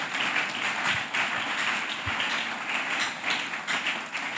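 A church congregation applauds steadily, dense clapping from many hands continuing throughout at a moderate level, with a few louder thumps.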